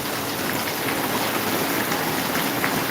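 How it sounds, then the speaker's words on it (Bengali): Heavy rain pours down steadily on the streets of a market in Maharajpur, a dense, continuous hiss of drops drumming close and loud with no pauses or voices. "বৃষ্টির পানি অনেক জোরে জোরে বৃষ্টিতে ভরপুর রাস্তাঘাট"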